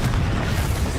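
A Confringo explosive spell blast in Hogwarts Legacy: a dense, booming burst with a heavy low rumble that fills the whole short moment, loud and close.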